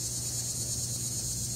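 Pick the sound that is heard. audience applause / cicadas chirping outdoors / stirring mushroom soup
cicadas chirping outdoors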